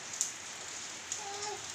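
Steady rain falls in a soft, continuous hiss, fairly quiet throughout, with a couple of brief louder drops standing out and no voices.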